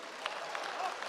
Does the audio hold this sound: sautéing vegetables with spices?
no